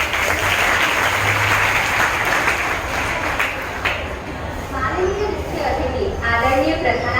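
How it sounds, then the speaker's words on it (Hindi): A school audience of children applauds at a Hindi Day event, a dense, continuous clapping that fills the hall with some voices mixed in. "तालियों की गड़गड़ाहट कुछ कम सुनाई दे रही है"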